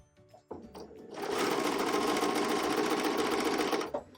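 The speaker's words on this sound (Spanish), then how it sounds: "Vamos a empezar a coser." Sewing machine stitching fabric for a DIY facial beauty set, a few soft clicks and then a fast, steady mechanical whirr running close up for a few seconds before it stops.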